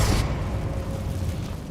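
A Confringo blasting spell goes off in Hogwarts Legacy, a sharp burst at the start followed by a low rumbling boom that rolls on steadily beneath game ambience.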